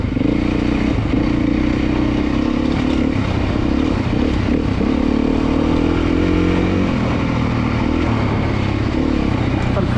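A Beta 430 RR Race Edition dirt bike engine drones steadily at a demo day, a continuous loud mechanical rumble with clatter and a voice speaking over it.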